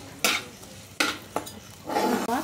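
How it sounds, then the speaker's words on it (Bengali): Chopped onion fries lightly in a pan: a few sharp scraping strokes from a stirring utensil break over a soft sizzle, then a louder burst of frying near the end. "পেঁয়াজটাকে এখন একটু এর মধ্যে হালকা করে ভেজে নেব।"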